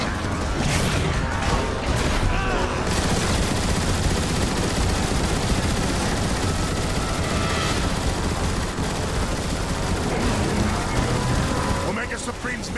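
Weapons fire in Transformers: War for Cybertron during the Omega Supreme showdown, dense rapid gunfire and mechanical clatter held loud and steady, with a voice breaking in over the barrage.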